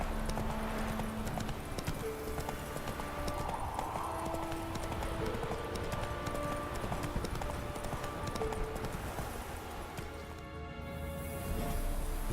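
Roach, a horse in The Witcher 3, galloping: rapid, continuous hoofbeats drumming steadily throughout at moderate volume, layered with game ambience and a brief tonal sweep near the end, with no talk.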